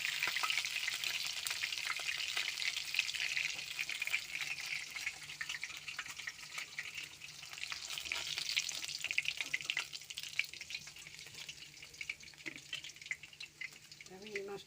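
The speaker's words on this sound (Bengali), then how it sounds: "আমি এই মাছটা ভেজে নেব।" Soft pomfret fish frying in a pan, with a continuous close crackling sizzle and occasional stirring noises, and no voices.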